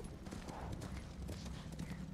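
A horse's hooves clip-clop in Ghost of Tsushima as a white horse is ridden, a quick steady trotting rhythm under a dense wash of game ambience, fairly faint.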